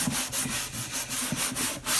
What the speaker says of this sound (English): the moment you start sanding, at least in my experience, that means normally you have to take off all the lacquer